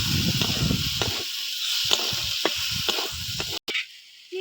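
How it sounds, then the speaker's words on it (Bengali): Shrimp frying in a pan with turmeric and salt, a steady close sizzle with brief stirring scrapes and clicks, a short silent break near the end. "চিংড়ি মাছটা একটু ভেজে নেব।"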